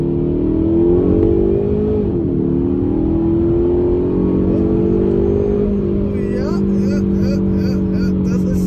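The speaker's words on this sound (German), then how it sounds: "So Leute, wir beschleunigen mal raus von" A 2020 Kia ProCeed GT with 204 PS and a DSG gearbox accelerates from 50 to 100 km/h, heard from inside as a loud, rising engine drone that climbs steadily and dips briefly at a gear change.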